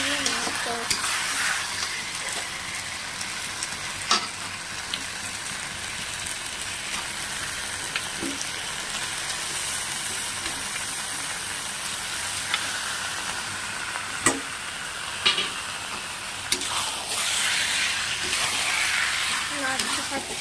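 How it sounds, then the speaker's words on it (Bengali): Chicken pieces fry in hot oil with spice masala in a village-style kitchen, a continuous loud sizzle and hiss with occasional clanks and scrapes of stirring against the pan; a voice talks faintly underneath at times. "দিয়ে অল্প অল্প চিকেন দিয়ে নাড়তে হবে।"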